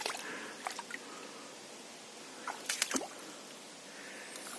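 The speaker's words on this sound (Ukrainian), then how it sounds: "Вода біжить через камінь, кам'яне русло." Water trickles over stones in a rocky forest stream bed, a quiet, close babble with scattered drips and small splashy gurgles.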